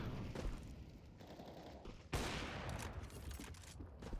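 Gunfire in the video game Counter-Strike 2, quiet shots and clatter with one sharp, louder blast midway, set against low background game noise.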